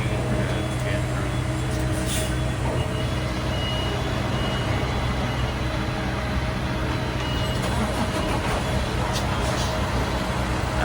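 Straddle carrier machines move around a Long Beach port container terminal, producing a steady, loud, continuous engine and mechanical rumble with broadband noise throughout, without clear pauses.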